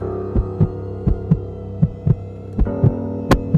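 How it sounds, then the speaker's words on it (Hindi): A fast heartbeat sound effect thumps in a steady double-beat rhythm, loud and close over a low droning hum, with no voices. "उसका दिल तेजी से धड़कने लगा।"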